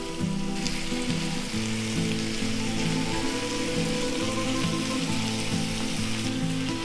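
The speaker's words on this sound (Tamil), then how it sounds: "வெங்காயம் வதங்கிட்டு இருக்கும் போதே" Onions sauté in a pan for a chapathi kurma, a steady close sizzle with a continuous crackling hiss and no talking.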